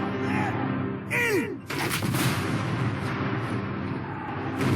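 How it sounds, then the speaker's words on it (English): Fortress cannons fire on a warship in a war film, heavy booming blasts that rumble and echo, with fainter sounds around them. "The fortress' mighty cannons roar to life"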